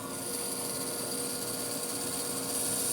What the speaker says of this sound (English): So we're going to go over on the bandsaw again, and we're going to cut all of this out the way we did before.